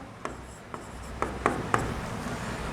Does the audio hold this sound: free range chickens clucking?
no